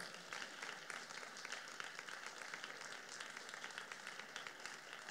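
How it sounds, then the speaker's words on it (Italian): Audience applause at an Italian public talk on Yemen, Iran and Saudi Arabia, honoring the moderator; steady, fairly faint clapping from a crowd that runs evenly through the whole stretch. "vi chiedo un applauso sincero e di grande stima a Costanza Spocci"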